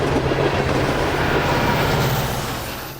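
A freight train, likely an oil train on a Chicago line, rolls past close by with a loud, sustained rumble and rhythmic rail clatter that stays steady before easing slightly at the end.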